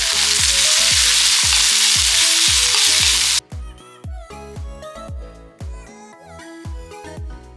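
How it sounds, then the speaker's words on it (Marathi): Finely chopped onions, about two, hit hot oil with a loud, steady sizzle for the first few seconds, then the frying noise cuts out, leaving rhythmic background music that plays throughout. "हे साधारण 2 बारीक चिरलेले कांदे घेतले होते ते ऍड करून घेतोय आणि व्यवस्थित आपण ते परतून घेऊया."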